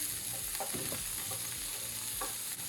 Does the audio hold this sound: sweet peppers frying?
yes